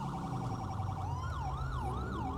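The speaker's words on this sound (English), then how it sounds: "I don't think they use this priority siren" A wailing, warbling police siren from the GTA 5 LSPDFR mod, on a San Diego police car, sweeps up and down continuously over steady engine and road noise, faint in the mix.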